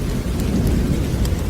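Heavy rain pours down steadily in a dense, even roar, with a low rumble of thunder rolling underneath, no voices present.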